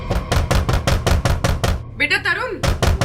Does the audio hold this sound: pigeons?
no